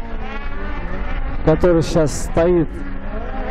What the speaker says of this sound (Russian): и рев мотора,